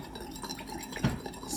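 Slime solution being mixed, with a quiet, close stirring and light scraping of a utensil against a container and a few soft clinks.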